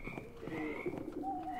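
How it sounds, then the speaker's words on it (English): Bird cooing in a Minecraft Harry Potter map set in Diagon Alley, soft low hoots repeating a few times, quiet against a faint ambient background. "owls,"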